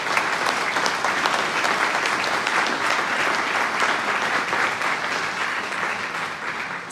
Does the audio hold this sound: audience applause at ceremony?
yes